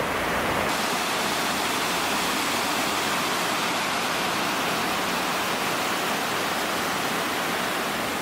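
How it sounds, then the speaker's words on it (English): Continuous rushing hot spring water, broad and steady like a flowing stream or small river running through a town in Zao Onsen, Japan, filling the whole clip without talk. "There's a river of hot spring water going through the town."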